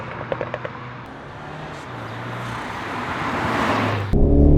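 BMW Z4 sDrive30i M Sport roadster engine revving and climbing through a gear, rising steadily in pitch and loudness with a sharper surge at the end; a few brief pops early on.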